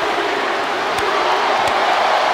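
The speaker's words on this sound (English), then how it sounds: "Listen to this crowd." A WWE 2K24 arena crowd during a women's gauntlet wrestling match makes a loud, steady, roaring wash of cheering that fills the space without a break.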